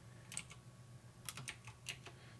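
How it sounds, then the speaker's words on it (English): Keys clacking on a computer keyboard in a few short bursts of sharp taps separated by pauses, close to the microphone over a low steady hum. "clack on the keyboard"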